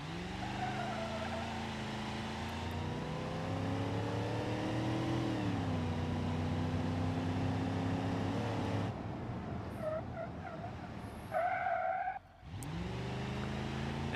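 A truck engine in BeamNG.drive drones steadily for most of the stretch with rising and falling revs, then cuts to a rougher spell with short squeal-like tones before the engine note resumes.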